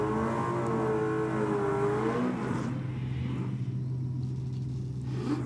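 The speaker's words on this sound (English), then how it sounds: "Joe Sorbello leaving the start line on yet another pass in the Datsun" A Datsun drag car pulls away from the start line on a drag strip, its engine roaring loud and close with a steady low drone and rising harmonic revs that fade into a broad rumble.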